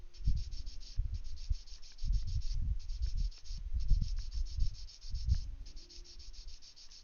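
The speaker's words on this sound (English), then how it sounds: "Just sanding this off." A Gundam model kit part is sanded by hand in short, close rubbing bursts, roughly a dozen strokes in uneven groups with brief pauses between them, quiet and without speech.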